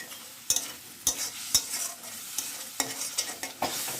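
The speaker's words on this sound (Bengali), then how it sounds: "এখানে মশলা কষানো হচ্ছে, ডিমের ঝোল হবে" Spices sautéing in a pan for egg curry, with close spatula scrapes and stirring strokes about every half second over a steady sizzle, and no voices.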